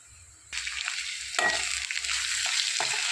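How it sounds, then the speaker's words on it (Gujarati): Ginger, garlic and chili paste is stirred into green corn chevdo frying in a pan, a steady close sizzle with scraping spoon strokes that swell after the first half-second and continue throughout. "હવે આપણે એમાં જે આ પેસ્ટ બનાવી હતી આદુ લસણ અને મરચાંની આપણે તે એમાં આપણે મિક્સ કરી દઈશું"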